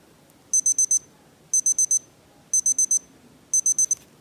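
Second alarm of a Citizen JG1071 Digi-Ana Marine watch: four bursts of high electronic beeps, each a quick run of four chirps, repeating at one-second intervals, clear and close.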